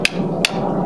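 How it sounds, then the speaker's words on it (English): A sledgehammer drives stakes into soil while forms are set for a concrete pad, landing three sharp, evenly spaced blows about every 0.4 seconds, close and loud. "we hammer our stakes in with our sledgehammer here down into the soil"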